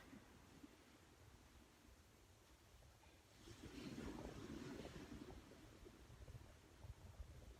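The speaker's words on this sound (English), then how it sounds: "waves in the background." Ocean waves wash onto the shore at a state park, a soft steady hiss with one fuller surge swelling in the middle, mixed with wind rumble.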